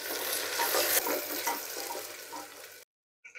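Onion frying with cumin in a pan over a low flame, a soft continuous sizzle with light stirring, fairly quiet and close, which cuts off abruptly near the end.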